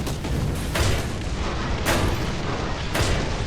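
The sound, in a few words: machine gun firing at tank in War Thunder video game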